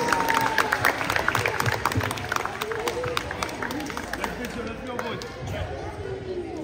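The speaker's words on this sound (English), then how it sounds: "Please give them a round of applause, guys" A crowd at a kids' awarding ceremony claps for Team Fire, a dense rattle of hands with chatter and voices mixed in throughout.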